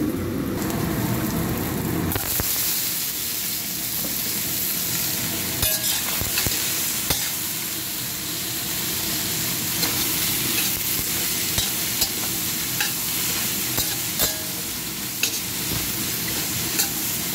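Ginger fries in a pan of oil while Shanghai noodles are cooked, a loud steady sizzle with scattered clinks and scrapes of stirring, close and continuous without any talk.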